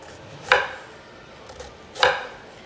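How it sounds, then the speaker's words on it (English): An onion is chopped with a knife on a board in a home kitchen, two sharp, distinct thunks about a second and a half apart with a light tap between, close and clear. "Wife cutting up the onion."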